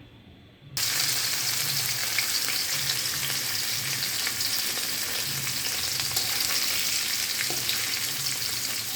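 Chhana (cottage cheese) frying in hot oil in a pan for a vegetarian curry: after a brief quiet start, a loud, steady, close sizzle crackles on without pause.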